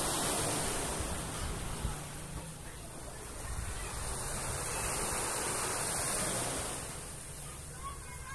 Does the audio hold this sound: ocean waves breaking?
yes